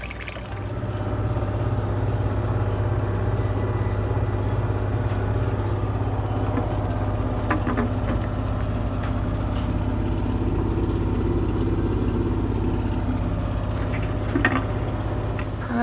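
A washing machine in its final rinse and spin cycle, washing cloth diapers, gives a steady, loud mechanical hum with water sloshing and churning throughout, no voices.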